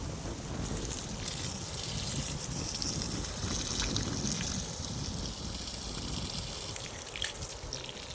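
Irrigation water runs across a farm toward a neem tree in a steady, continuous gushing rush, with buffeting wind noise on the microphone throughout.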